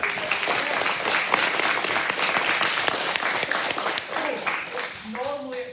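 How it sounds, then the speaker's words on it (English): An audience applauds at a primary school P7 leavers' ceremony, producing a sustained crowd of clapping that fades slightly near the end, where a voice begins talking. "Let's give them a round of applause."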